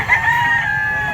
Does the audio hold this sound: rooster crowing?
yes